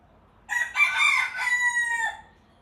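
Rooster crows once, a clear, moderately distant cock-a-doodle-doo lasting about two seconds against quiet surroundings.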